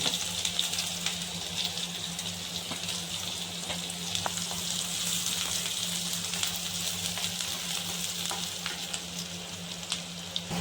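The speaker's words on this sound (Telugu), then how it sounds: "ఆయిల్ హీట్ ఆవాలు వేసాం తర్వాత మనం తరిగి పెట్టుకున్న ఉల్లిపాయలు ఈ ముక్కలు వేస్తాము" Chopped onions dropped into hot oil with mustard seeds for a Telugu raw banana stir-fry, giving a steady, close, continuous sizzle that holds evenly throughout with no talk.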